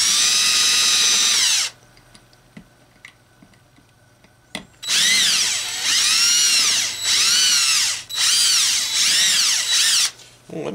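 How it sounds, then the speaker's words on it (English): A power drill with a larger bit boring into a Delmonico FMS-749 AM-FM tabletop receiver, loud close whining bursts that start, stop and restart several times after a quiet pause. "go up to the next drill bit"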